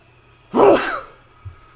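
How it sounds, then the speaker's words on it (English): A single abrupt sneeze from a man, close and loud, bursting out over near silence and followed by a faint breath. "That sneeze snuck up on me."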